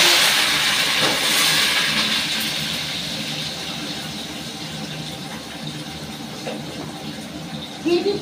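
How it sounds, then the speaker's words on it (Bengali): Vegetables fry in a pan for fried rice, giving a steady broadband sizzle and hiss that is loudest at first and gradually settles, with faint clinks near the end. "এগুলো এবার ভেজে নিচ্ছি সব সবজি।"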